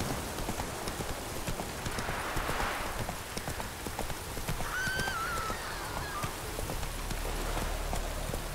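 Roach the horse gallops in The Witcher 3, hooves clopping in a rapid steady rhythm over a rainy, noisy outdoor bed, with a brief whinny-like call midway.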